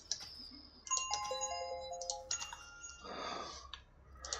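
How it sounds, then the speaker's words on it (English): A phone timer goes off with a series of bright chiming beeps, short tones stepping at different pitches, fairly close and clear with no one talking. "It's an irrelevant timer. Got a lot of timers on my phone for various different things."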